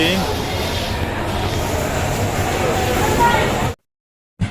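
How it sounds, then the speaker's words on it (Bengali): A steady, dense rumble of a train standing at a station in Sylhet, Bangladesh, continuous and fairly loud, ending abruptly before a brief burst of noise at the end. "দেখতে পাচ্ছেন আমাদের ট্রেনটা স্টেশনে দাঁড়িয়ে আছে"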